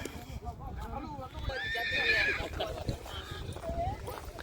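Sindhi-breed horse at a horse race event in Kutch, Gujarat, whinnying loudly midway while hooves clip-clop throughout, under someone talking and crowd noise.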